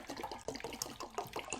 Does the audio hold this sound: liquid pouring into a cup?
yes